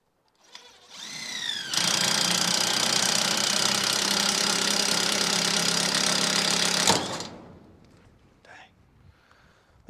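A power drill drives screws during electrical rough-in work. A short rising whine is followed by a loud, sustained motor buzz that lasts about five seconds and then stops abruptly, leaving quiet handling sounds.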